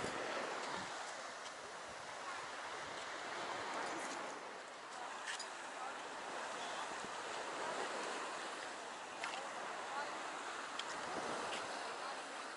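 Steady wash of surf and sea noise rolls on continuously at a beach resort in Turkey, with wind buffeting the microphone and no clear voices.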